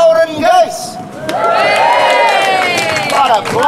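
A crowd at the Golden Goose show whoops and cheers in a sustained, swelling roar with shouts layered on top, loud and close throughout.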